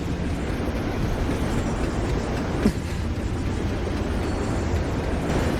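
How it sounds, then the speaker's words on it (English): Night City train in Wuthering Waves, a loud continuous rumbling roar of a train with a brief knock midway and a slight swell at the end. "What's a Night City train doing behind a door?"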